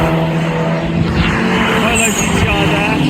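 Renault Clio RS and Mazda MX5 race cars at a Donington Park track day roar past on the circuit, a loud continuous engine drone with rising whine and a brief tyre squeal as they go by.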